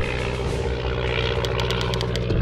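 A WWII-era propeller aircraft engine drones steadily in the Flying Tigers: Shadows Over China video game, a loud continuous hum during a bombing run, with faint repeated clicks near the end.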